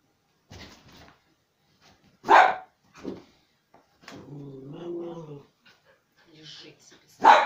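Dog at home playing with a ball, giving short whimpers and a few sharp barks separated by quiet gaps, with a longer whining note in the middle, fairly close and moderately loud.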